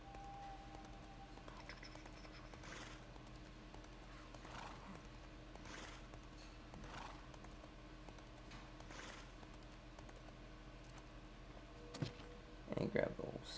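Horse hooves clip-clopping in the survival game Stormfall: Saga of Survival, with a whinny, faint steady footfalls under a constant game ambience, and a few sharper clicks and a short louder burst near the end.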